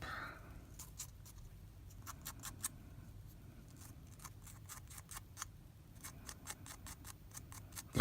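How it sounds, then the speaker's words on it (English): Sandpaper rubs a surface with quick, rhythmic scratchy strokes, close and fairly quiet, in bursts over a low background hum. "Piece of sandpaper here."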